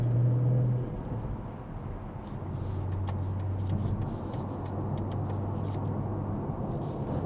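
A BMW M340i Touring with a DCE 300-cell downpipe and resonated OPF delete cruises in comfort mode on a highway on-ramp, giving a low, steady exhaust drone blended with road and tire noise, fairly quiet and unbroken.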